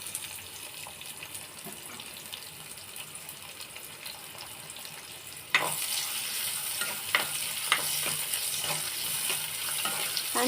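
Finely sliced onion hits hot oil and the frying jumps to a loud, bright hiss, with a quieter background before it and stirring clinks throughout, for a broken wheat dish.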